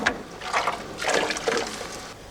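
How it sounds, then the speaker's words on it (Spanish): A mordant mix of alum and cream of tartar is poured into a cauldron of warm water, giving a close, fairly loud splashing and gurgling pour that swells and recedes over about two seconds. "Una mezcla de alumbre y cremor tártaro se echa como mordiente en un caldero con agua tibia."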